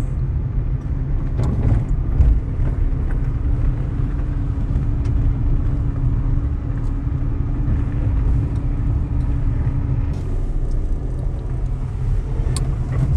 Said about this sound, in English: that car that just turned left over there